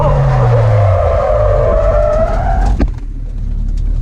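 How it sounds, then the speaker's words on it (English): A Honda S2000 spinning out on a race track, its engine droning loudly under a long tire skid, then a sharp thump as the car comes off and the noise drops to a low rumble. "this is every spin out and wheel drop I've had in my first year of tracking my S2000"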